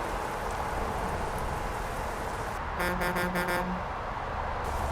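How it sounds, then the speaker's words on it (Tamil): Steady rain hiss in Euro Truck Simulator 2 fills the scene throughout, with a short burst of bright repeated tones partway through before the rain continues alone. "மழை பெய்யுது."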